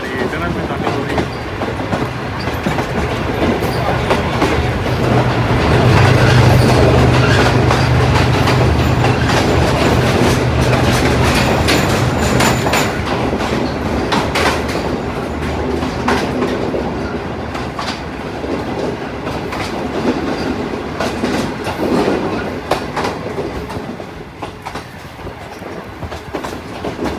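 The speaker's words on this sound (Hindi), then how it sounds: "सामने आप देख रहे हैं कि ट्रेन हमारी टनल में दाखिल हो रही है।" A train running toward and into a tunnel with a steady, loud rumble and clatter of wheels on rails, a brief low hum swelling midway before the noise thins out. The run is from Peshawar to Rawalpindi, on a new rake of the Awam Express.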